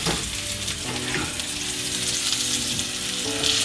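A dry-aged Angus steak, lightly oiled, sears in a hot pan with a loud, steady, close sizzle and crackle that runs unbroken throughout, with no talking.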